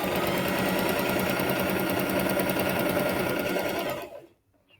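An electric sewing machine stitching quilt triangles together, a fast, steady mechanical whirring chatter running loud and close for about four seconds before stopping abruptly into silence.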